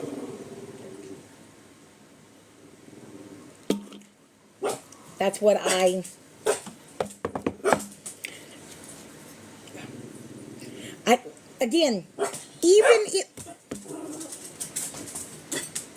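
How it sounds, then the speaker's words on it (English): A small dog whines and yaps for attention indoors, high whimpers breaking into short sharp barks in irregular bursts, close and fairly loud, with a person talking between them. "this is what it sounds like when the dog wants your attention"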